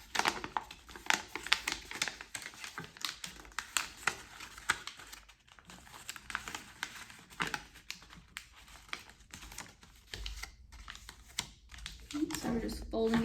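Paper is folded for a simple craft, making a steady run of close, crisp creasing and rustling taps as a person speaks throughout.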